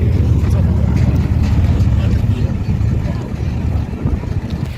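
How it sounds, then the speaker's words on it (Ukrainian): Small motorboats on a canal in Rotterdam, a steady low engine rumble mixed with wind buffeting the microphone, continuous and fairly loud throughout. "Прикольні такі катерки."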